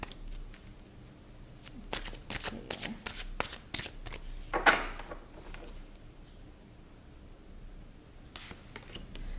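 Tarot cards being shuffled by hand before a reading, a close, crisp run of riffling and flicking bursts with short pauses and a quieter stretch in the middle.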